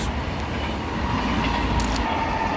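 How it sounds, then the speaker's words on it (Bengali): A passing train on a Portuguese roadside rolls by as a dense, continuous rumble with faint rhythmic clatter. It sounds loud and fairly near throughout the short stretch, with no talk over it. "ওই যে ট্রেন যাচ্ছে"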